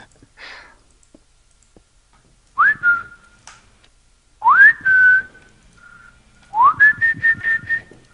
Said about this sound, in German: Wem pfeifst du dazu?